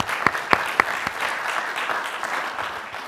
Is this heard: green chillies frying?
no